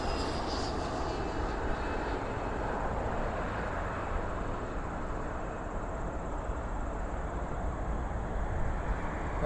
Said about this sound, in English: Private jet coming in here.